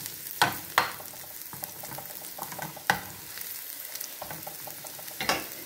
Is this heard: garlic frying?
yes